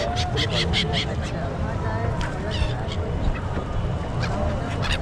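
Geese or ducks honk and quack repeatedly near a boat on the river at the Prayagraj Maha Kumbh 2025, a dense flock of calls over constant crowd babble and water noise.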